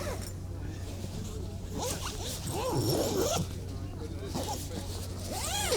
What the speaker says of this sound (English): this whole thing zips up